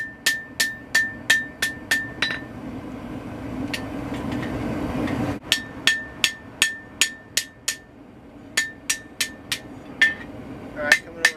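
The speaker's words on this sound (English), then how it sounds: "just giving it a few light whacks with this light little ball peen hammer here" A small ball peen hammer lightly strikes the steel of a big one-piece Bowie knife on an anvil, giving rapid bursts of ringing metallic taps in regular rhythmic runs, loud and close, with brief pauses between series.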